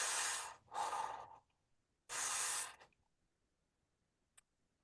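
Slow deep breaths during a relaxation exercise: two long inhales and a long exhale, close and fairly loud, followed by near silence and a faint tick.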